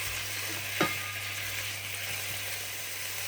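Squid sautés over high heat in a pan to cook off its water, giving a steady, close sizzle and crackle. One sharp utensil scrape stands out early, and no one speaks.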